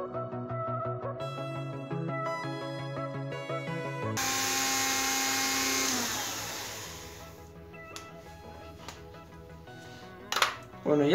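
A Dremel rotary tool grinds a small blacksmith hammer being shaped with needle files. A steady high whine rises over a few seconds after a stretch of music, then fades to quieter, intermittent handling noises.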